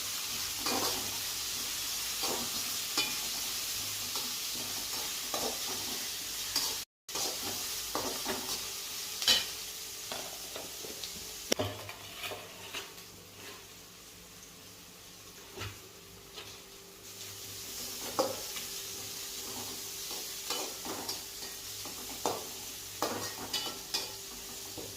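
Onions and curry leaves frying in a pan, with a steady low sizzle and intermittent scraping stirs of the spoon, fairly close, no talking.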